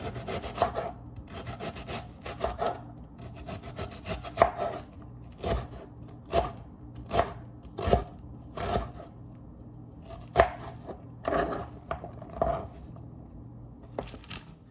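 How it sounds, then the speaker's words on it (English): A knife chops an onion steadily on a cutting board, each crisp knock repeating at an uneven pace for a long stretch, close by with no voices. "roughly chop up an onion"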